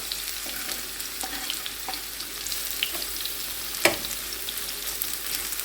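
Onion frying in hot oil in a skillet, a soft, even crackling sizzle at close range with scattered pops and one sharper clatter of a utensil partway through.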